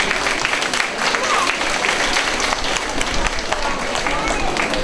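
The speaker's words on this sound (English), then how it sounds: "It's just, can you please give a big round of applause for Miss Padmini?" Clapping fills the room as a graduation-day audience at a Montessori school applauds a teacher, loud and continuous throughout, with voices mixed into the crowd noise.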